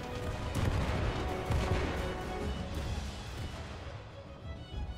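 Missiles launching and striking a ship in the naval combat game From the Depths, a dense roaring wash of blasts and rumbling impacts that is loudest early and slowly thins out, with no voices.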